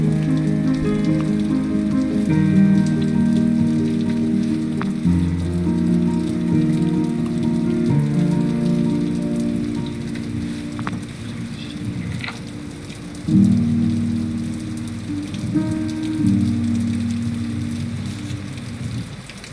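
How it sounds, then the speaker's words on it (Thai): Steady rain falls throughout, a dense, even patter of drops on a surface, heard alone under a soft low musical bed with no voices. "ฝนตกอีกแล้ว"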